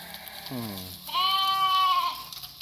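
Three-month-old Dorper crossbred lambs bleat on a farm, a short low bleat followed by a longer, higher wavering cry, close and clear.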